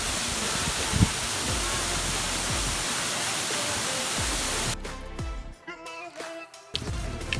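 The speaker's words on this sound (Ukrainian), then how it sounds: "Ось наш водоспад гук." Steady, loud roar of the Huk waterfall near Mount Khomiak, Ukraine, fills most of the clip, then cuts away abruptly, leaving quieter scattered bumps and thuds.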